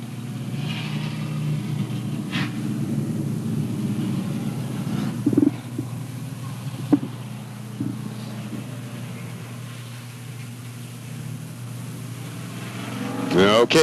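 Race cars at a 1995 day race at Oak Level Raceway circle the track under caution, a steady low engine drone rumbling throughout with a few brief knocks and a louder surge at the end.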